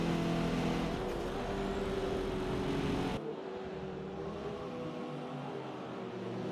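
Race cars in a Forza video game thunder past the line, with a loud, steady engine roar that abruptly drops to a quieter, more distant drone midway.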